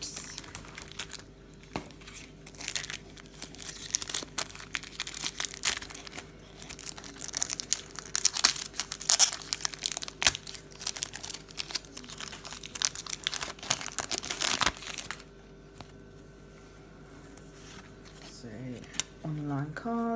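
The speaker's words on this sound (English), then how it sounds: "And so I will open the cards." Match Attax 17/18 football trading card packs being torn open and handled, giving a steady run of close crinkling, ripping and foil-wrapper rustles with sharp clicks, continuing for most of the stretch before quieting near the end.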